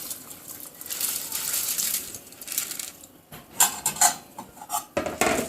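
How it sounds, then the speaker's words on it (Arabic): Rice goes into a pot of boiling water with browned vermicelli, heard as a close clatter of grains and metal utensils against the pot, with irregular rattling bursts over a soft bubbling hiss. "انزل بقى بالرز بتاعنا عشان خاطر ايه يستوي في الميه المغليه"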